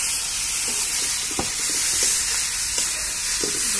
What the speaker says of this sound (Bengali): এখন আমি এর মধ্যে বেগুন ভাজাগুলো দিয়ে দিচ্ছি।